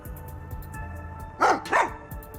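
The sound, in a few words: dog Sugar barking, from the video game Rain Code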